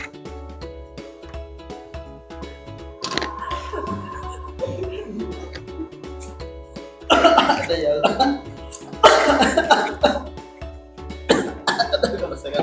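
People in a meeting room cough and clear their throats in several separate bursts, some loud and near, amid ongoing conversation.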